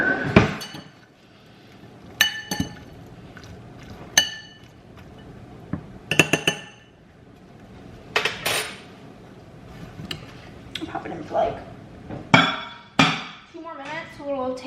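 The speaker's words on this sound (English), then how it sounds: "But I'll give it a stir." A spoon stirs a pot of food with butter in a home kitchen, giving irregular sharp metallic clinks and knocks against the pot, several distinct taps spread across quiet moments, close and fairly loud.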